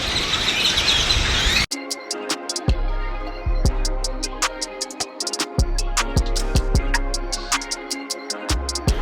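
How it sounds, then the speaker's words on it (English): Dense, loud birdsong with sharp repeated chirps and tweets over a chattering chorus, close by and continuous, no voices. "these birds are so loud"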